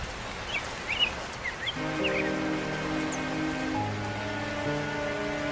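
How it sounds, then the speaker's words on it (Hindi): Cartoon rain patters steadily with a few bird chirps at first, then a sustained tonal music bed joins and carries on beneath the rainfall. "अरे वाह, क्या ठंडा ठंडा मौसम है, बारिश हो रही है"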